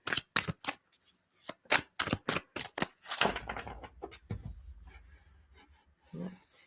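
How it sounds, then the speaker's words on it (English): Tarot cards being shuffled in quick, crisp riffling bursts, followed by a longer softer rustle and a brief louder burst at the end; close and fairly quiet. "you guys can hear me shuffling"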